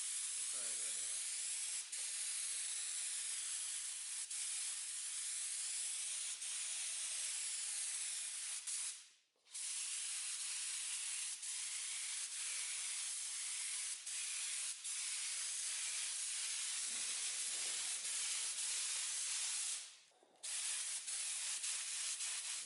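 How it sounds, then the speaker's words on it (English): Spray gun hissing steadily as paint goes onto a 2016 Dodge Ram 1500 EcoDiesel truck under repair, a loud continuous spray broken by two brief pauses. "and then we're gonna start painting"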